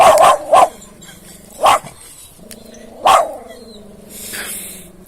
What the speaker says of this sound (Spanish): Es la perrita de al lado, es muy bonita.